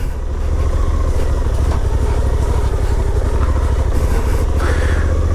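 Suzuki V-Strom 800DE 2023 adventure motorcycle riding along a dirt road, its engine a steady loud low rumble throughout with slight rises in pitch and rough wind and gravel noise over it.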